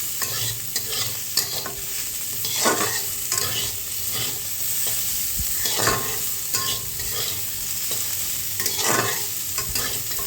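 Bitter gourd fries and sizzles in a pan while a spoon stirs it. There is a steady hiss throughout, with repeated scraping strokes every second or two and no talking.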